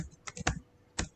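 Code typed on a computer keyboard, a few quick close key taps in an irregular rhythm, then a short pause and one last keystroke, with no talking.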